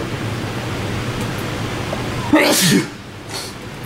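A single sharp sneeze bursts out over a constant hiss of football-game crowd noise, brief and close.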